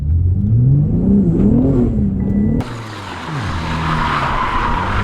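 A BMW G80 M3 drifting, its engine revving loudly with a rising, wavering note, then tires screeching in a sustained squeal as the car slides.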